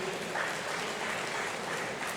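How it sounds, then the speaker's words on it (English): An audience at a Democracy Day public lecture in Nigeria applauds the speaker, with a brief, even wash of clapping that holds steady throughout. "Let's give a round of applause to Professor Sam Egu,"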